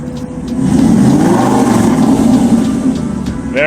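Aston Martin Vantage S sports car engine revving once, a loud, close rise in pitch held for a few seconds before easing off.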